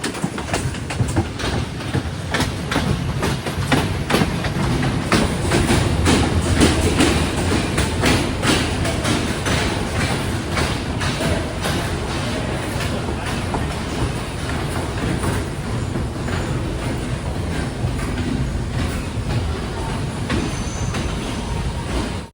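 The Sri Lankan night mail train between Ella and Badulla rolls on with a continuous loud rumble, rhythmic clickety-clack from the wheels and occasional squeals, heard close for over twenty seconds without talking.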